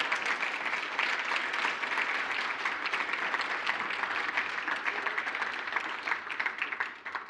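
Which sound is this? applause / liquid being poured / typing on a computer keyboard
applause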